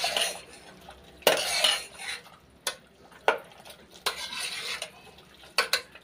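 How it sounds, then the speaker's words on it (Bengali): Fried garlic and chili being stirred in a pan, with a spoon scraping and clinking against the metal in irregular bursts over a faint background, no talking. "ভেজে রাখা রসুন আর লঙ্কাটা একসাথে দিয়ে দিচ্ছি। দিয়ে ভালো করে নাড়াচাড়া করে নিতে হবে।"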